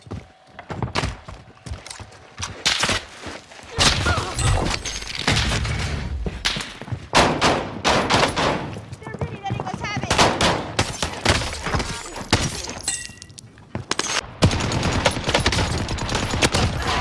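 Dense gunfire fills a Call of Duty: Warzone Pacific match, with rapid bursts and single shots cracking almost continuously, some thuds mixed in, and occasional voices heard underneath.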